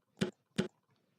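Two soft, short, thumping hits spaced about a third of a second apart, a Geometry Dash game sound effect pitched down to work as a little kick drum, faint and isolated.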